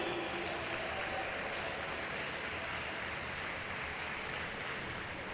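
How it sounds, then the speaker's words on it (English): Steady, dense applause from a gymnasium crowd after a college volleyball match, a continuous wash of many hands clapping, distant and fairly quiet, with no voices standing out. "Let's give them one more round of applause, please."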